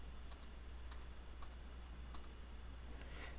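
Quiet computer mouse or keyboard clicks made while building in the Roblox game Retail Tycoon, a handful of sharp ticks spaced irregularly over a low steady hum, with no talking.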